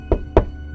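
Two dull, heavy knocks on a wall about a quarter second apart, close and loud, against a quiet room.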